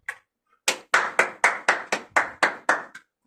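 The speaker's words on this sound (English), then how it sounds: "Ladies and gentlemen, come on, round of applause if it does." A round of applause comes as nine sharp hand claps in an even, steady rhythm after a brief pause, close and loud with no voices.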